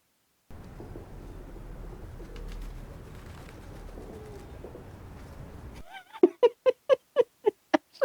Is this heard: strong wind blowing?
no